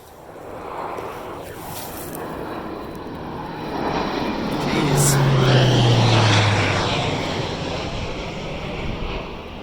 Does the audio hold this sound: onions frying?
no